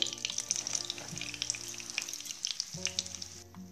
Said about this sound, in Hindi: आपको बेसन जो है सिम हीट पे ही फ्राई करना है